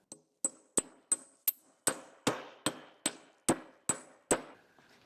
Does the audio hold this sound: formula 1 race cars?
no